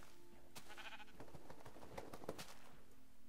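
A Minecraft sheep bleats a few times, short wavering cries over a steady low background hum, fairly close and moderately loud.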